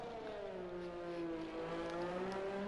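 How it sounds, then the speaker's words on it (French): A racing video game car's engine drones in a steady, slightly rising whine with harmonic overtones, loud and continuous, with no talk. "Désolé pour le bruit du moteur qui est un peu chaotique"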